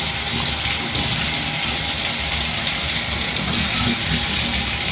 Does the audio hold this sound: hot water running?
yes